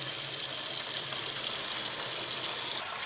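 Cold water runs from a kitchen tap into a sink drain in a steady, even hiss, close and constant for a few seconds, with nobody talking.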